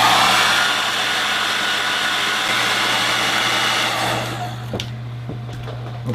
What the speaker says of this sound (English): I'm going to dry it a little bit quicker with a hairdryer, just set on a medium setting